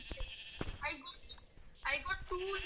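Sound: sheep bleating in a video game

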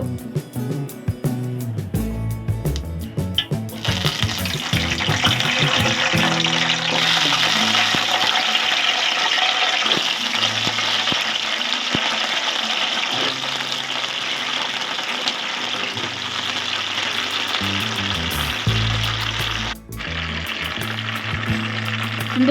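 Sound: cut eggplants frying in hot oil

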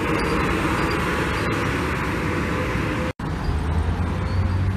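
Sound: STJ Hino RN bus passing at Bawen toll exit

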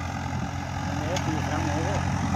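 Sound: Swaraj 855 FE tractor engine pulling a disc harrow

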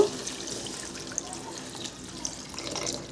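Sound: water poured over cooking masala for papad curry

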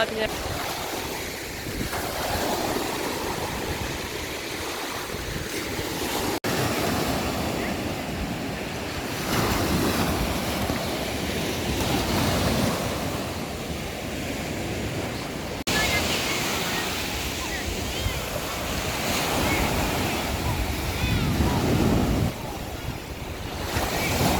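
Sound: sea waves on beach with wind

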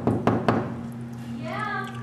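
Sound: knocking on a hotel room door

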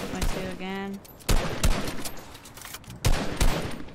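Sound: gunfire in the video game Fortnite

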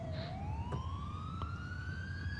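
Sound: ambulance siren in the video game GTA IV

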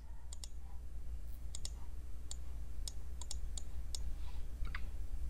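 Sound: computer mouse clicking

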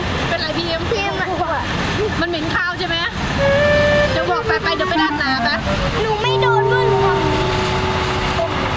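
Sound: train horn tooting

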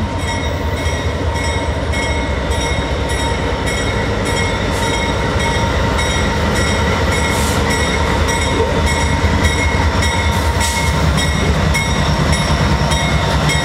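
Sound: CN freight train with four locomotives passing

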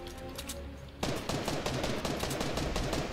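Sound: sniper gunfire in the video game Fortnite

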